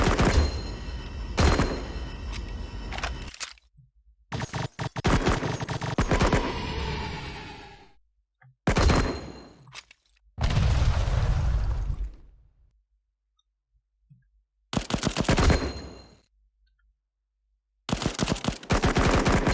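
Rapid automatic gunfire in the game Cover Fire, loud close bursts in several separate volleys with silent gaps between them.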